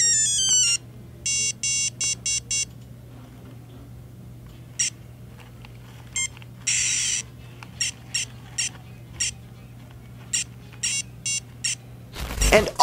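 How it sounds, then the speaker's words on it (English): A 1993 Nelsonic Nintendo Star Fox watch beeping out its built-in electronic sounds: high chirps, short tone bursts and brief melodic beeps, scattered and intermittent over a low steady hum. "I should probably let you guys hear a little bit of the sounds that come out of this watch."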